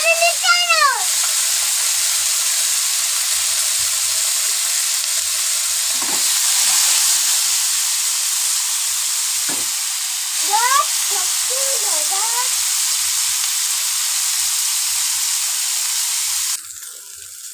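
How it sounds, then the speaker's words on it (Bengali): Fish sizzles steadily in hot oil in a wok, a loud continuous frying hiss through the whole stretch that eases slightly near the end, with a few brief tonal chirps layered over it and no talk. "এবারে এই মাছগুলো ভেজে নেব।"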